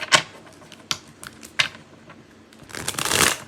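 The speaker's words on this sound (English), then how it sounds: "let's shuffle the cards and see what messages we have coming in with the tarot" A deck of tarot cards being shuffled by hand, close and crisp, in several quick riffling bursts with short pauses between, ending in a longer, louder flurry of cards.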